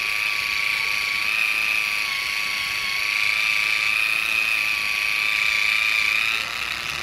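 A Newdec Pro cordless rechargeable mini polisher runs with a steady high whine at close range and a faint pitch dip as pressure is applied, alone without talk.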